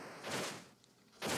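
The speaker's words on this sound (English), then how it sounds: "That was like a double explosion," Video game explosions in Blaster Master Zero 2, heard as two loud, broad blasts roughly a second apart with a quieter noisy lull between them.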